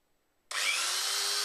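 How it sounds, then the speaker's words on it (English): A cheap handheld power file, rigged as an angle-keeping knife-sharpening grinder, switches on abruptly after a brief silence and holds a steady, loud, high-pitched whirring drone up close. "I invented something. The angle keeping power grinder."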